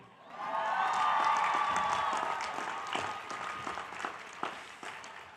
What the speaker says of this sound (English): Can we give a big round of applause to the people who funded this entire operation?